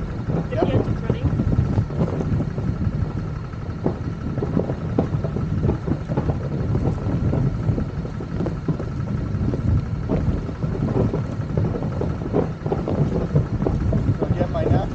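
A Hurtigruten ship's engine runs steadily on a voyage in Norway: a loud, continuous low rumble and churn mixed with gusting wind noise against the microphone.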